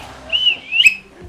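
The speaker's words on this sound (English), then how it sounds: "I learned how to blow a whistle and how not to blow it on a whistle." A whistle is blown in short, shrill toots, rising and wavering, close and fairly loud with no talking over it.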